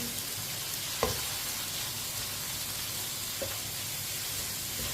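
Steady sizzle of boiled chana dal frying in a pan, with a couple of soft spoon knocks as it is stirred.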